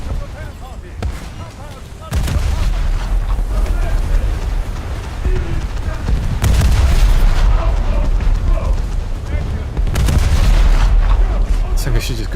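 Fifteen-inch naval guns fire in a warship video game with three heavy, booming salvos spaced a few seconds apart, each leaving a long rumbling tail over steady background noise, with a voice talking throughout.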